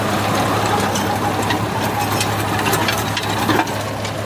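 A tractor engine runs steadily and close by, a constant low idling drone with a faint knocking texture and no talk over it.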